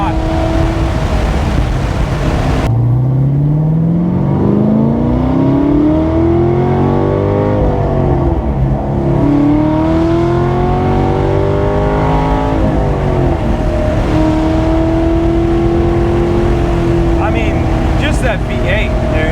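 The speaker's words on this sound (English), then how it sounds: "That V8, it's an incredible noise it makes." A V8-swapped ND Mazda Miata with over 500 hp pulls through the gears while driving, its engine rising in pitch with each loud, deep, rumbling sweep and dropping at the shifts, heard close from inside the car with faint speech.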